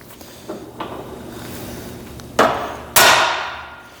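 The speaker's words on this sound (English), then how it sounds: "since I'm down here with the hammer, I'm just gonna bump this up" A hammer taps a wooden gate board into place outdoors, with a couple of light knocks followed by two loud, sharp strikes that ring out and decay.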